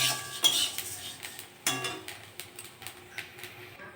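Fried vermicelli is tipped out of a pan in a home kitchen, giving a clatter of metal utensil knocks and a light rustling scrape in irregular taps, close and moderately quiet.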